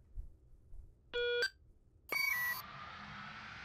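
Teleporter beeps in the Henry Stickmin Collection: two distinct electronic tones, a short high beep followed by a longer, brighter one that trails into a soft hiss, heard alone against near-silence.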